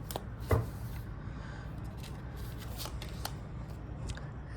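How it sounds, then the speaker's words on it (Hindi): Tarot cards being shuffled and drawn, soft close riffling and sliding of card stock with a few sharper snaps and taps over a low background hum. "तो आइए पहला कार्ड निकालते हैं"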